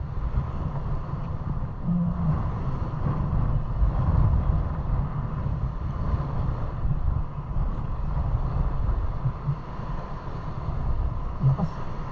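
Strong wind roars steadily and loudly outdoors, a constant low buffeting rumble across the whole stretch with no clear breaks.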